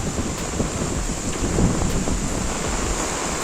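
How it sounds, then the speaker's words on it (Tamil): Heavy rain pours in Jaffna, a dense, continuous roar of downpour with some wind buffeting the microphone, loud and unbroken throughout. "ஜாழ்ப்பாணத்தில் வந்து மழை பெய்து கொண்டு"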